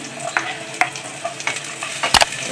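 Garlic and onion sautéing in a pan, with a steady soft sizzle broken by a few sharp scraping and stirring clicks.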